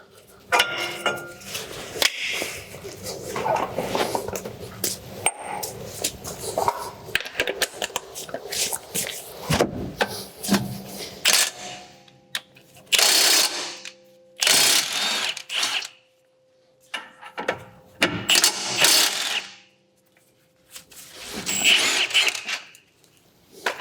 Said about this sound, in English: Then we need to remove our brake pads.